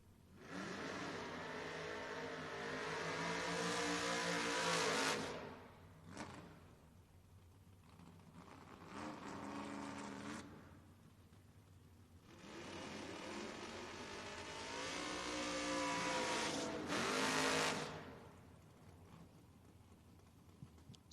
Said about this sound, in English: I hear race engines again